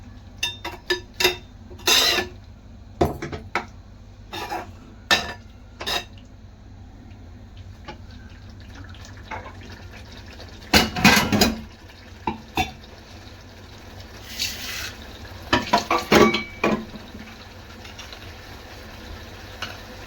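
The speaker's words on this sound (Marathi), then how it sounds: "पनीर टाकून झाल्यावर ग्रेव्ही व पनीर एकत्रित एकजीव होण्यासाठी मिक्स करून घ्यावे." Paneer and gravy are stirred together in a pan, giving irregular spoon scrapes and taps against the metal over a low simmering background with quiet gaps between strokes.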